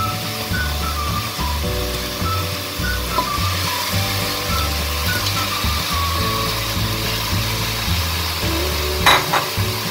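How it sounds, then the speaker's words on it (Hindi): Chicken pieces fry in masala in a pan for a chicken korma. A steady sizzle runs under low, repeated stirring and scraping, with a brief clatter near the end. "और इसको अच्छे से भूनेंगे 5 मिनट के लिए"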